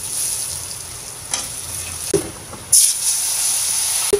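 Chili powder and spices sizzle steadily in a pan for a fish curry with drumstick pods, a continuous frying hiss broken by a few stirring scrapes and a louder burst near the end.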